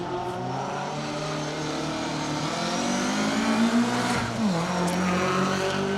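A Mark II Escort rally car on a downhill stage drones steadily nearby, its engine pitch swinging as it comes down under braking, with a brief squeal near the end.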